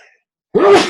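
A single loud, close human sneeze, a sharp burst following a moment of silence after a brief trace of speech.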